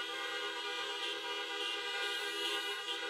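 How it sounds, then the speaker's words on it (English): Several car horns blare together in a sustained, overlapping honk that holds loud and steady throughout, at a drive-through high school graduation. "thank them as we only do today, with a glorious horn honk"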